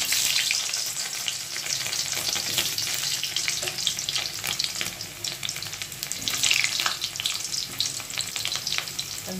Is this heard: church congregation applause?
no